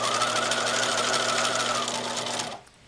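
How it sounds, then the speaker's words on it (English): A sewing machine stitches a curved line on an apron armhole, a close, steady rapid whir with a fast rhythmic needle beat that runs continuously and then stops abruptly near the end. "You now have a 1 inch line sewn on the armhole of the apron."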